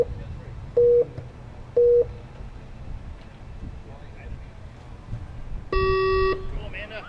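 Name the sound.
race start beeps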